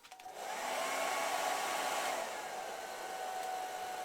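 A hair dryer blows warm air to dry paint off a monitor, a steady close whoosh that swells after a brief start, then holds slightly lower to the end, with no talking.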